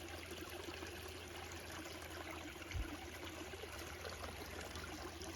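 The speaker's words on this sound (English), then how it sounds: "Getting kind of the water flowing down the sandstone" Water runs down a sandstone creek bed in a wooded Iowa valley, a faint, steady, distant trickle and rush that continues evenly throughout, with one brief low thump in the middle.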